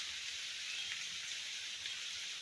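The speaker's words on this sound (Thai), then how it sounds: "ฝนตกตอนนี้นะ" Steady rain falls in a soft, continuous hiss, with a faint sizzle of drops on surfaces and no voices.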